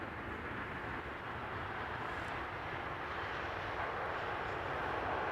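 An ITA Airways jet arriving from Milan at Amsterdam Schiphol gives a steady, broad engine roar at moderate distance, rising slightly toward the end, with no voices.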